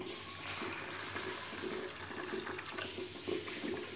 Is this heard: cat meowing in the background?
no